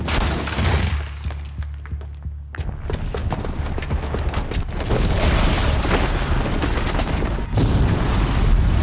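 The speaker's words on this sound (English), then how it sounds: "the booby trap on the bomb downstairs is gonna get set off" A bomb booby trap detonates in the video game Horizon Zero Dawn, a loud sustained blast with crashing debris and rumbling that swells again near the end, with no talking.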